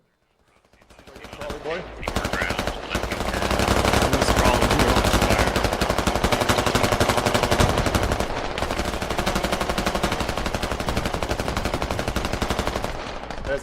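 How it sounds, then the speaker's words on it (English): Sustained machine-gun fire from many soldiers mag dumping in the military shooter Squad, a dense, continuous rattle of overlapping bursts that swells in after a second and stays loud, with a brief voice over it. "Bear's just totally shooting into an empty tree line. 10 guys mag dumping."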